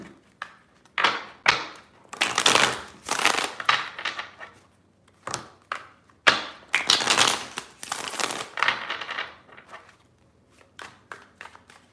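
Tarot cards being shuffled in three bursts, each a dense riffling flutter with short taps and pauses between, close and fairly loud with no talking.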